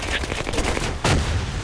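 A cannon shot in the video game Apewar, a sharp, loud boom that bursts out about a second in against a dense, noisy game backdrop with earlier gunfire-like crackles.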